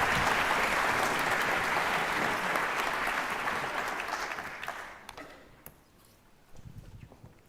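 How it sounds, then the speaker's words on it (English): An audience at an energy summit panel claps loudly and steadily for the guests, the applause fading out after about five seconds into a quiet room with a few scattered sounds. "please have a round of applause for our wonderful guests"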